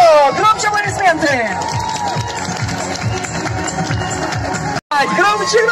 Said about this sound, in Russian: Громче аплодисменты!